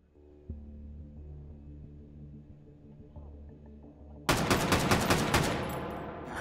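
Gunfire in the VR shooter Hot Dogs, Horseshoes & Hand Grenades on a hallway custom map with incendiary rounds: a low hum, then a loud, dense burst of rapid shots that runs to the end.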